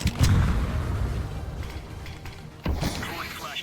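Grenade blasts in a video game: a heavy boom near the start and a second sharp burst later, with rumbling, crackling game ambience between them.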